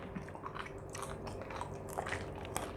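Close biting and chewing of crunchy Balinese keripik kulit, skin crackers with balado spice: dense crackling crunches repeat steadily with no one speaking.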